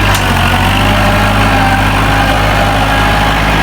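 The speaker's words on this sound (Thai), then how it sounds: "วันนี้พามาดู L5018SP เกรดดินนะฮะ ดันดินดันดินนี่ก่อน" Kubota L5018SP tractor grading and pushing a full blade of soil in first gear, a steady loud diesel drone with deep low rumble and constant vibration, close and unbroken throughout.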